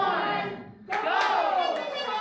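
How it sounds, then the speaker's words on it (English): Senior living residents cheering a forklift race, a loud burst of whooping and shouting voices that rises suddenly after a brief lull and carries on as a lively crowd roar. "The residents have gathered to cheer on the hometown River Rats, a lean, mean forklift racing team."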